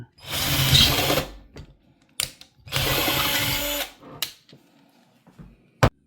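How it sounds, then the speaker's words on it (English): A power drill bores a hole through the cap of an AleSmith San Diego .394 Pale Ale growler. It sounds as two sustained whirring bursts, each about a second long, with short sharp clicks and knocks in between and after. "I drilled a hole in the cap."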